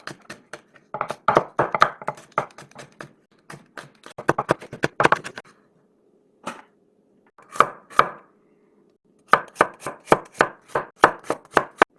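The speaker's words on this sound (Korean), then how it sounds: "잘게 썰어요." A knife finely chops seeded red chili peppers on a cutting board for nabak water kimchi: close, crisp bursts of rapid taps separated by short pauses, with no talking.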